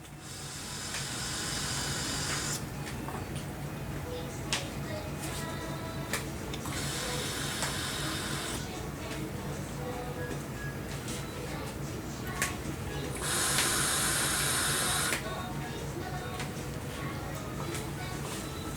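Drawing on an Alpha Hellvape Fusion vape pod with the airflow closed gives three long, tight airy hisses spaced across the stretch, with quiet room noise and clicks between them.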